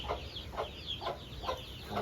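Aseel chickens cluck in a steady series of short, bright calls, repeating about every half second, fairly close with a low background hum and no talking.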